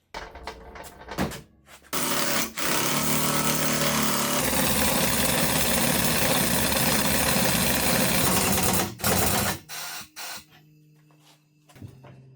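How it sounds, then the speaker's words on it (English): An air compressor switches on in a workshop after a few clanks, roaring steadily and loudly for about six seconds before cutting off, followed by scattered knocks and handling noises. "Turn on the air compressor."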